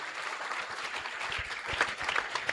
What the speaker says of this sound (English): with a round of applause, let's welcome Dr.